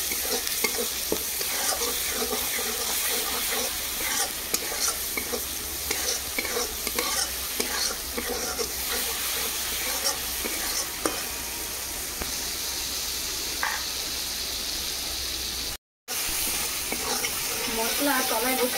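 Spice paste with ground turmeric and chilli paste sizzles and fries in a pan while being stirred steadily, with continuous close frying crackle, scraping strokes and a brief gap near the end; no talk over it.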